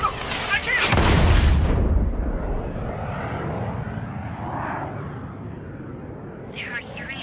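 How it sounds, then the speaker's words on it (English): Jet aircraft in the Ace Combat 7 combat flight game roar past in a loud broadband sweep near the start, then leave a long rumbling engine wash that fades; a brief higher whine is heard at the end. "The approaching Ocean aircraft."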